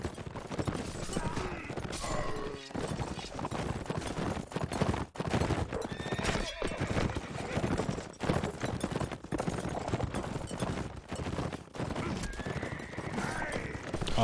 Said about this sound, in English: Wappa is going for the horse rush.